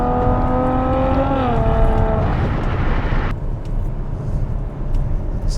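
A Ferrari F12 supercar engine accelerates hard, its tone climbing and shifting before falling away into a fading roar and road noise.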